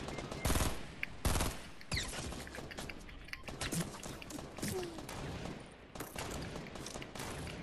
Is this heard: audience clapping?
no